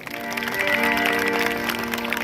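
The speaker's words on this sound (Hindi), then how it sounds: "सभी लोग तालियां में स्वागत करें।" An audience at a wedding ceremony for Rukmini claps together, a steady burst of applause under a sustained musical drone, fairly loud and close for a couple of seconds.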